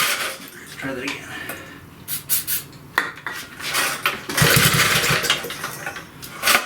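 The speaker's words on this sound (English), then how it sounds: "Yes, you can run an engine without a carburetor." An old 40-year-old Briggs and Stratton engine running without a carburetor, irregular sputtering and rattling bursts that rise and fade, with metallic clatter and a rough roar near the end, heard up close.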